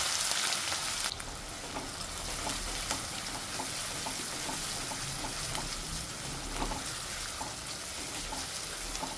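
Finely chopped onions frying in oil with cinnamon, cardamom and shahi jeera in a pan, a continuous rain-like crackling sizzle at an even level throughout, close, with no voices.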